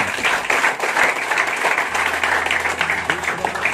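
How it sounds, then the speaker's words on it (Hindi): Audience applause at a senior members' meeting of a Sahara India regional group, a dense steady clapping that runs throughout with talk mixed in underneath. "थोड़ा जोरदार तालियां बजनी चाहिए आपकी"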